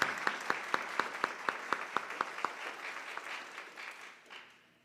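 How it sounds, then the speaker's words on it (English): Applause from a group starts with distinct rhythmic claps, then blurs into a dense patter that fades out at the end. "We can clap for them, that's right."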